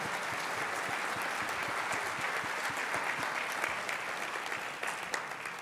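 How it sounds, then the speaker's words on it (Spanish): Steady applause fills an awards ceremony hall, a dense crowd clapping continuously at moderate distance with no speech on top. "Un aplauso para José Ignacio que ha estado aquí fuerte en esto."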